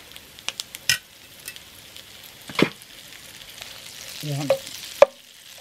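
Butter dropped into a pan over a low flame, a soft sizzle with scattered clicks and scraping stirs, a few sharper knocks against the pan, and a brief spoken word.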